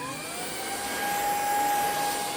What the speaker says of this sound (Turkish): Şimdi hatta süpürürken de göstereyim size.